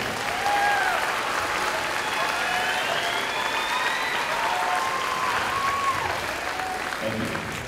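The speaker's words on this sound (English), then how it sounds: "Let's give them another round of applause." A school band concert audience claps in a long, dense, steady ovation after the performance, full and even throughout, with a few voices calling out faintly above the clapping.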